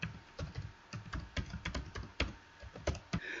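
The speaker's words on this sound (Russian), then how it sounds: "Пропишу номер карты свой." Quick, uneven bursts of key taps on a computer keyboard as a card number is entered, close and moderately quiet with short pauses between groups of strokes.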